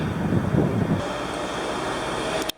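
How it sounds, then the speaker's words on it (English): Strong headwind buffeting the microphone during a bicycle ride in the Netherlands, a loud, rough rushing roar that gusts and then eases, ending abruptly. "Very strong headwind."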